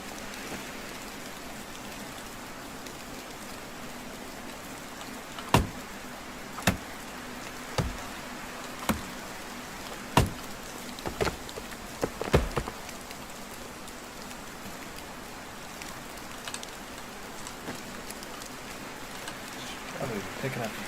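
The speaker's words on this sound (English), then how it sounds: "it's starting to rain" Steady rain hiss falls in a medieval countryside setting of the Medieval Dynasty video game, with a handful of sharp knocks or footsteps breaking through the even wash at intervals.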